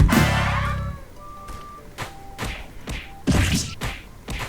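Several heavy thumping punch impacts in the Roblox game One Piece Awakening land at uneven intervals, each a sharp hit with a brief whoosh, starting after a loud low burst at the beginning.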